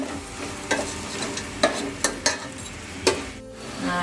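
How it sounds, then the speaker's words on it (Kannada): Tomatoes frying in oil for chicken biryani, a steady sizzle under sharp scrapes and clinks of a spoon stirring against the pan at irregular moments, close up with no talking. "ಟೊಮೆಟೊ ಮೆತ್ತಗಾಗೋವರೆಗೂ 1-2 ನಿಮಿಷ ಫ್ರೈ ಮಾಡ್ಕೊಳ್ಳಿ"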